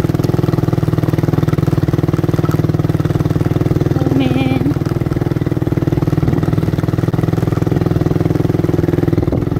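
A steady low motorcycle engine rumble idles continuously throughout, with a brief exclamation from a man partway in; the motorcycle is damaged, on a rough, pothole-filled road.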